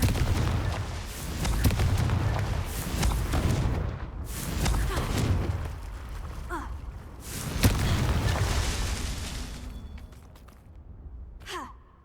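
Blasting spell explosions from the Hogwarts Legacy video game, a series of heavy booms and bursts with whooshing sweeps, loud and close, repeating across the stretch with a short quieter gap near the end.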